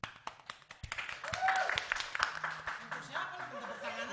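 Audience applause and clapping build up and continue for several seconds, mixed with a speaking voice and some light laughter.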